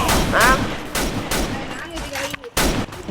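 Video game gunfire crackles in repeated bursts, a series of sharp shots with a short silent gap near the end, loud and near.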